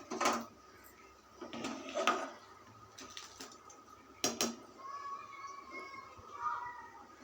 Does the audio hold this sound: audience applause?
no